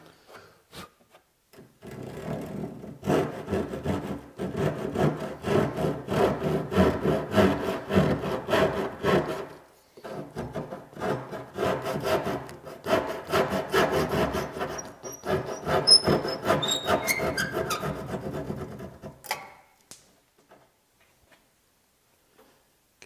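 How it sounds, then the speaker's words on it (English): Chisel paring wood by hand on a blanket chest, a close run of dense scraping and shaving strokes in two bursts separated by a brief pause, ending in quiet. "use this shoulder flat on my chisel and pare that little leftover there that I left away"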